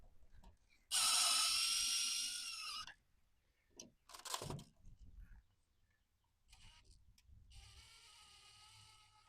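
A drill tightens the wings of an old work electrical box set into drywall, sounding in two bursts of high whirring, with scattered clicks and handling noises in between.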